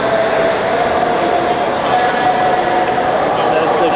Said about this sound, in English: That's the Eurostar terminal. at the Waterloo International Station.